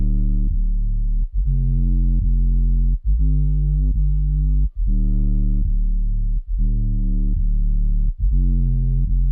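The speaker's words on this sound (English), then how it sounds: "It's just a sine bass with a little bit of tweakiness with the distortion." Distorted sine sub bass synth preset from the Logic Pro X ES2 synth, playing a series of deep sustained notes with brief gaps between them, heavy and smooth with a gritty edge, alone.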